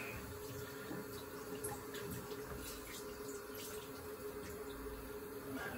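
Tap water runs steadily from a faucet while a modified gold dollar coin is rinsed under cold water, a constant close hiss and splatter that continues without pause.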